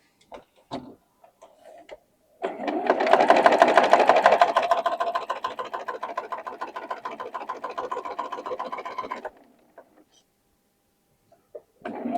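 Fabric quilt blocks pieced pretty sides together run through a sewing machine in one continuous burst of rapid stitching lasting several seconds, with a few faint handling clicks before and after in an otherwise quiet room.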